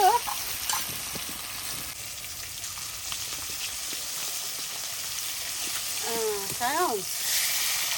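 Pieces of rohu fish fry in a pan with a steady, close sizzle and hiss throughout, and a voice speaks briefly over the frying near the end.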